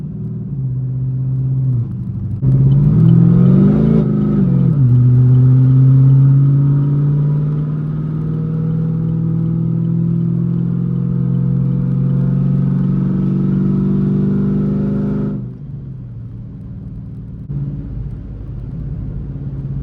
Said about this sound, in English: Now this is like a little second gear burnout.